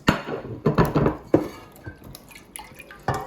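Cornmeal pudding batter for Jamaican cornmeal pudding being stirred with melted butter in a bowl, giving a run of close, wet clinking and sloshing strokes with brief pauses between them.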